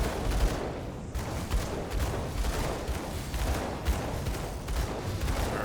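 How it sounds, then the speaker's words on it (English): A gunslinger's rapid volleys of gunfire pound a big griffin in a video game, dense repeated shots and bursts continuing steadily throughout. "let's go ahead and shooty shooty bang bang the big griffin"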